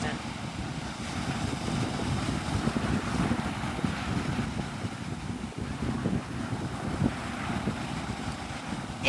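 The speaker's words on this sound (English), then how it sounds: "It's a little windy, yeah." Steady wind on Navarre Beach buffets the microphone with a continuous low rushing roar, with a faint wash of surf in the background.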